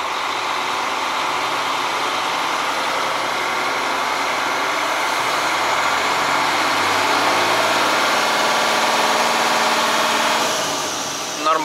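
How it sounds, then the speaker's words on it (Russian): The engine of a new Kamaz 5490 Neo truck, warmed up to about 60 degrees, runs as a loud steady drone that rises slightly in pitch as it revs, then drops off at the end. "Посмотрим, как он набирает обороты."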